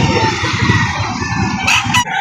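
Chickens at a livestock auction market in Padre Garcia cluck and crow loudly up close, a dense cluster of overlapping calls with a couple of sharp, higher squawks near the end.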